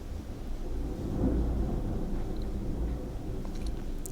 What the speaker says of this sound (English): oh my gosh, it's thundering.